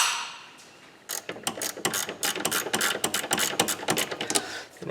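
A ratchet fitted with a 10 mm socket backs out a car battery bolt, with a second of quiet before a run of quick, close, crisp clicks in uneven bursts.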